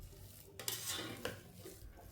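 A spoon clinks and scrapes against a metal pot while puran filling is stirred with cardamom powder and nutmeg, a few quiet taps and scrapes heard faintly with no voices.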